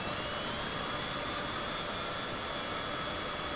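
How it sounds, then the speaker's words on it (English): Left jet engine of a Cessna Citation CJ4 running in Microsoft Flight Simulator 2024, a constant dense roar with a faint high-pitched whine, uniform and close throughout with no speech. "It's your left engine."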